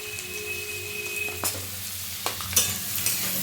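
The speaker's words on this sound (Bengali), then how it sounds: "গাজরগুলো আগে ভেজে নেবো।" Carrots fry in a pan for fried rice, with a continuous close sizzle and a few sharp scrapes and knocks as a spatula stirs them.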